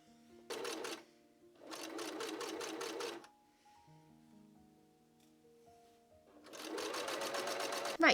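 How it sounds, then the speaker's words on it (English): A sewing machine runs in three bursts, top stitching two rows on a Y2K nu metal style garment, with a quieter stretch of tonal hum between runs and the final burst loud and close. "This was then top stitched down with 2 rows of stitching."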